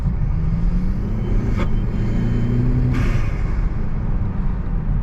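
A turbocharged Buick with a cold air intake gives off a constant, loud engine rumble and drone that holds without a break, marked by a couple of brief sharp ticks.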